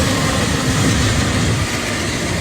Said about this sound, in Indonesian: hingga kereta api melintas